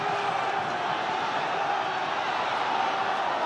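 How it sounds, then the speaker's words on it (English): A Galway crowd at a Connacht v Ulster rugby match roars in a steady, loud, sustained wall of noise, with no breaks. "what a roar from this Galway crowd"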